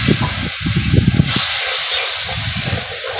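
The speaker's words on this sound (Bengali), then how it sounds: "সামান্য সামান্য জল দিয়ে মশলাটাকে কষিয়ে নেব" Spice paste for an egg curry sizzles in hot oil with a low bubbling crackle for about a second, then a splash of water sets off a loud, steady steam hiss that carries on to the end.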